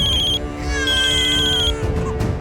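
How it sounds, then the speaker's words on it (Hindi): A telephone rings with a loud electronic tone, one bright burst, a brief gap, then a longer sustained ring, fading into background clatter. "अब किसका फोन आ रहा है?"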